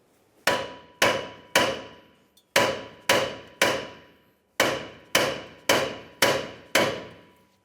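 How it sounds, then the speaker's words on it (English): Sharp metallic hammer blows on the upper control arm ball joint of a 2005-2010 Dodge Dakota ring out in quick groups of three, two, and four, each strike loud, close and decaying quickly, with no talking. "give this area a couple bonks to try to break it free."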